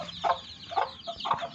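Domestic hens with chicks make three close, distinct clucks at a steady rhythm, with soft background rustle and no voices.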